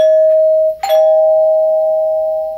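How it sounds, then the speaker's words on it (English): A Dimango/Thomas & Betts door chime with a plastic housing and plastic resonators strikes two notes, a ding then a lower dong, the second tone ringing out clearly and slowly decaying. "It's a plastic housing with plastic onboard resonators and dual"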